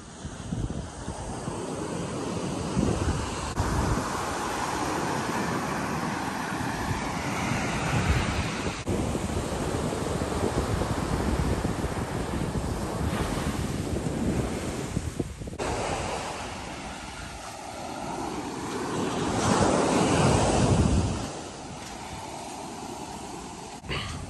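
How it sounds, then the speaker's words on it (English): Waves and wind on an empty beach at Lo de Marcos, Mexico: continuous loud surf washing in and out with steady wind buffeting the microphone, swelling louder near the end. "we're down here on the beach now"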